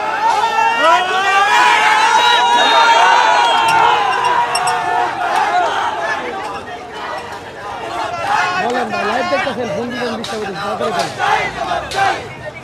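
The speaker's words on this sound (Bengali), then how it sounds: "শত শত ছাত্ররা রাজপথে নেমেছে এখনো পর্যন্ত মিছিল শেষ হয় না" Hundreds of students march in a Bangladeshi street protest procession demanding quota reform, a loud close crowd chanting and shouting slogans in rising, overlapping waves.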